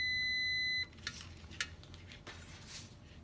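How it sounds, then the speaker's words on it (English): Small buzzer in a conductivity test circuit with a paper clip and aluminum, a steady electronic tone for under a second that cuts off, followed by faint clicks and handling noise. "when the electricity is flowing, the buzzer sounds"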